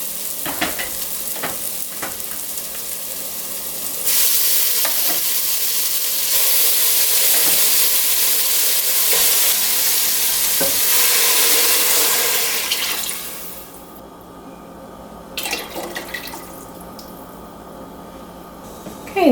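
Ingredients tipped into a pot of softened squash for pumpkin soup set off a loud, steady sizzle and hiss with stirring clatter, easing to quieter scrapes and small knocks near the end.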